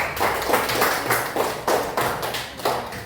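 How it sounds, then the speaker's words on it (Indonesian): Brief, rhythmic group clapping in a classroom for a student group, about a dozen even claps over a few seconds, close and fairly loud. "tepuk tangan untuk kelompok 2"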